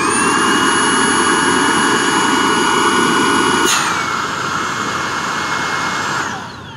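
A Tineco Pure One cordless vacuum cleaner held in the hand and running on low suction gives a loud, steady high-pitched motor whine that drops in pitch partway through, then eases slightly toward the end.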